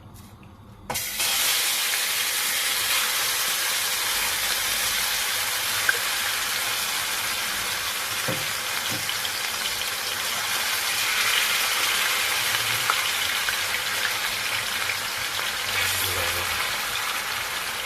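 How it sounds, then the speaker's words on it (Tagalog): Marinated beef strips hit a hot wok and sizzle, a sudden loud burst of frying hiss that settles into a steady, dense crackle holding for many seconds, close by, with no talking. "Dahil mainit na yung kawali natin, lalagay natin yung ni-marinate natin kanina."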